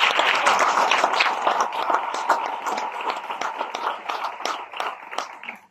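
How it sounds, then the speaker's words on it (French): Audience applause at a round-table talk on childhood, with dense, sustained clapping from a roomful of people. It stays steady and fairly loud throughout, then thins out toward the end, with no speech over it. "Je vous demande de les applaudir."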